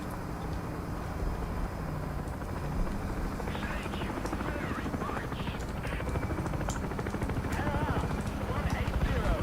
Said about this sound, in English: Helicopter, I'm hearing a chopper.